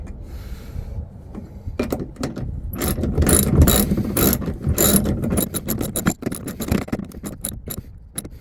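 A nut is tightened onto the bolt of a fixed seatback bracket being fitted to the second-row seat of a Hyundai Porter 2 double cab, a close, loud run of rapid ratchet clicks with scattered metallic clanks.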